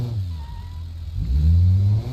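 A Ford Taurus engine in a racing video game drones low and steady, then surges and revs higher as the car accelerates, loud and close.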